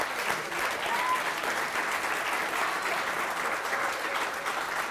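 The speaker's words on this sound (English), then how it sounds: "So a round of applause for the Mountain Chalet" Steady applause from a crowd, even and sustained throughout, with no voices standing out.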